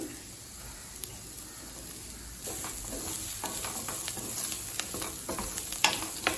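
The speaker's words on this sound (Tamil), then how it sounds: "தேங்காய் சேர்த்துட்டு ரொம்ப நேரம் வதக்க வேணாங்க, லேசாக வதக்கினா போதும்" Steady sizzling with scraping stir strokes as coconut is sautéed in a hot pan for masala chickpea sundal, crackling grows a bit louder partway through.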